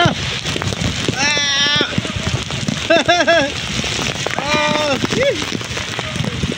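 Strong typhoon wind and heavy rain in the Philippines, a continuous roaring wash of rain and gusts buffeting the microphone, while a voice cries out in alarm several times over the storm.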